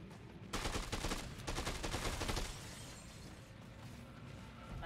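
Dead Rising 2 game gunfire rattles in two dense, rapid bursts close up, followed by a lower rumble of in-game noise.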